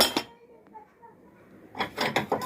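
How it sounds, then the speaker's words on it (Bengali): Six plates and three half plates being taken out for serving a meal, giving sharp clinks and clattering near the end, with a person talking around the sounds. "আমি এখানে ছয়টা বের করব আর কিছু হাফ প্লেট বের করব তিনটা"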